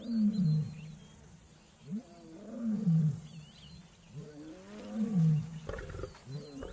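A lone male lion roars in a series of deep, grunting calls that rise and fall in a rhythmic sequence, heard from a moderate distance out in the wild.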